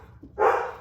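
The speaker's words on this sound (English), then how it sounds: "she's a golden doodle, so she likes to bark" A golden doodle dog gives a single short bark indoors, fairly close and moderately loud after a brief quiet moment.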